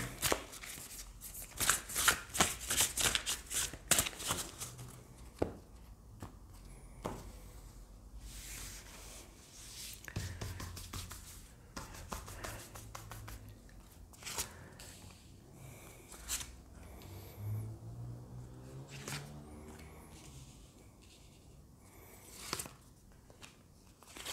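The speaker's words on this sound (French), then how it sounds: "on va tirer d'autres cartes avec le Power of Love" Tarot cards are shuffled and drawn by hand, with bursts of riffling and rubbing card noise, quick flicks and soft slaps, moving at an irregular pace close up and without talk.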